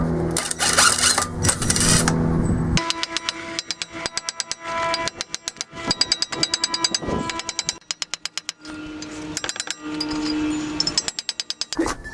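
Repeated sharp metallic hammer blows ring out in quick bursts, striking a 2009 Malibu's axle over and over at close range to free the hub flange, with pauses between volleys and no talking.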